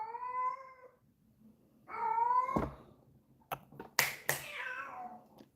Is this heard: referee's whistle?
no